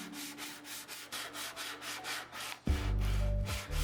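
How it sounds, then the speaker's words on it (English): The sole of a restored hand plane is rubbed back and forth on abrasive in a steady rhythmic scrape of about a dozen strokes, ending as a loud low machine hum starts up. "I assembled all the pieces back together so that I could start sanding down the sole of the handplane"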